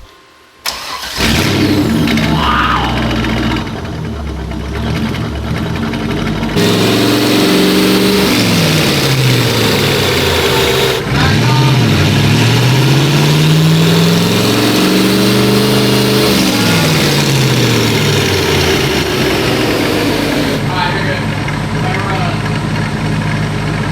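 A Chevrolet C5 Corvette with a 6-speed transmission starts up and revs hard on a dynamometer, the engine climbing and falling through repeated loud sweeps, close and dominant, with people talking over it.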